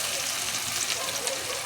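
Ginger-garlic paste sizzles steadily in hot oil with crackled cumin seeds and asafoetida for a mixed dal with spinach, a constant close, bright frying hiss with no pauses.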